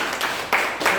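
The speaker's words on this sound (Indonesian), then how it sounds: "tepuk tangan dulu untuk kita semua" A short burst of classroom applause from students at the close of a biology lesson, a few uneven clapping swells, with speech faintly mixed in.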